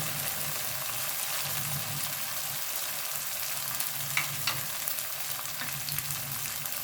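Spices and ginger paste fry in a pan for mutton curry, a continuous close sizzle with scattered scraping strokes of stirring that grow busier toward the end.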